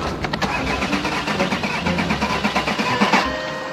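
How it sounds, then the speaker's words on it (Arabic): A car's starter cranks repeatedly in a rapid rhythmic churn without the engine catching, close and loud. "السيارة ما حبش تنوض لنا"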